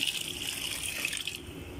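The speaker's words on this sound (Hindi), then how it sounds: "अब मैं इसमें ऐड कर दूँगी थोड़ा सा पानी ये मैं अंदाजे से डाल रही हूँ" Water pours steadily from a container into a pressure cooker while cooking beef biryani, a continuous close splashing hiss that stays fairly loud and even, with no talking.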